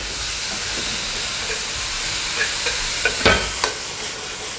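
Shredded potato filling is stir-fried in a hot pan, a steady close sizzle and hiss broken by a few scraping stirs and clinks of the utensil in the middle and toward the end.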